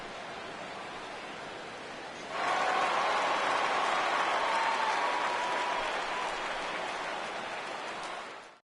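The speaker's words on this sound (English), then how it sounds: "So this home crowd likely to give him a standing O as he departs with the shutout in check" A baseball home crowd rises into a standing ovation, steady broad applause and cheering swelling in suddenly and holding loud before fading at the end, heard from a distance across the stadium.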